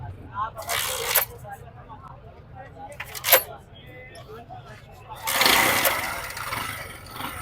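A used motorcycle at a Karachi second-hand bike market is started: a few short cranking bursts, then the engine catches into a rough running noise, with people talking nearby.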